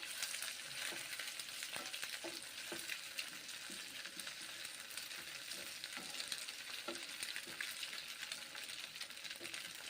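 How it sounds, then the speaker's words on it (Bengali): Onion frying in a pan, a steady close sizzle of hot oil with faint scattered clicks and taps from stirring. "পেঁয়াজটাও ভেজে নিচ্ছি"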